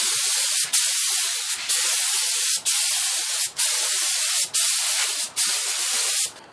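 A spray can lays a light coat of metallic paint on a fridge, a loud close hiss in long steady bursts broken by brief gaps, seven passes in a row.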